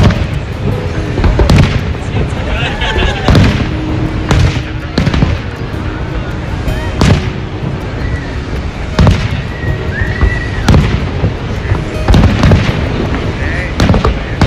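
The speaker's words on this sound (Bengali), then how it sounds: "রাত 10টা বেজে গেছে, শুরু হয়ে গেছে ফায়ারওয়ার্কস।" A nighttime fireworks display at Niagara Falls, launched from the Canadian side: loud booms and crackling bursts at irregular intervals over a continuous roar, with crowd murmur in the background.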